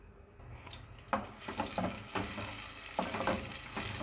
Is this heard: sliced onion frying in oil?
yes